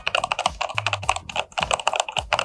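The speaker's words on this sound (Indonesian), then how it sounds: "Itulah bunyi daripada keyboard ni." Typing on an ROG Claymore II wireless gaming mechanical keyboard produces rapid, close, crisp key clicks in a steady flurry, with occasional deeper thocks from larger keys and no voices.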